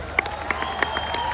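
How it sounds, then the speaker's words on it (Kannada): A comedy show audience claps briefly: a few scattered, fairly close hand claps over a murmuring room. "ಖುಷಿಯಾದ್ರೆ ಚಪ್ಪಾಳೆ ತಟ್ಟಬೇಕು ನೀವು"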